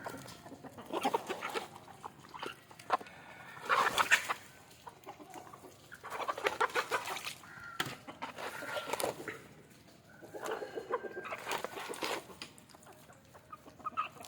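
Native village chickens cluck in repeated bursts while feeding on bran, the calls moderately close and coming in waves with quieter gaps between, no talk.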